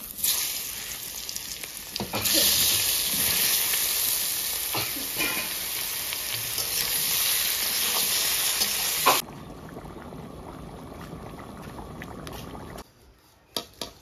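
Boiled, drained chunks of taro drop into hot oil in a frying pan and set off a loud, steady sizzle that lasts about nine seconds, then cuts to a much quieter kitchen with a couple of soft clicks at the end.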